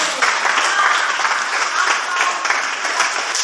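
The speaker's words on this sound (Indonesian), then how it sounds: "Iya, tepuk tangan buat si Rakel." A classroom of students clapping for a classmate, a short burst of fairly close, dense applause lasting a few seconds, with faint voices mixed in.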